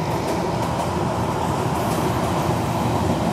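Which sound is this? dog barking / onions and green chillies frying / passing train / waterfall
passing train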